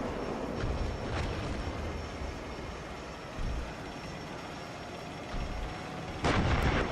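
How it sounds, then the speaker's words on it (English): Incoming fire in the Steel Beasts Pro tank simulator comes as a few separate muffled bangs over a low, steady background rumble, with the last burst the loudest. "We're taking fire here."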